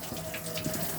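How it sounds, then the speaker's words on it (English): Water runs steadily from a caravan tap once the onboard pump is switched on, a loud continuous gushing stream close by with no voices. "you'll have water running out of every tap continuously on board the Caravan"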